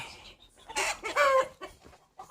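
Chickens cluck and squawk up close in short agitated bursts, one shrill squawk rising above the rest before the calls tail off.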